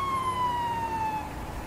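A warbling emergency vehicle siren from the game EmergeNYC wails steadily and loudly for a moment, its pitch sliding slowly downward before it cuts out, leaving a low engine rumble.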